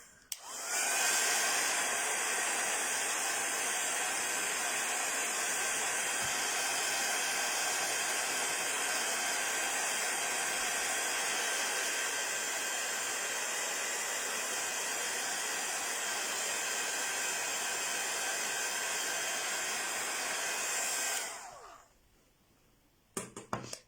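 A hair dryer blows on a wet painting in one loud, steady airy whoosh close by for about twenty seconds, then switches off, leaving near-quiet and a couple of small knocks.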